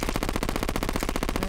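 A weapon in Terraria fires a rapid machine-gun stream of evenly spaced shots, loud and unbroken for the whole short burst.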